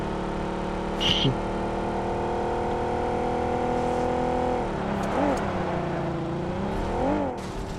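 A car in PUBG on the Miramar map drives steadily with a continuous engine drone, then revs up and down twice toward the end, loud and close, with no speech.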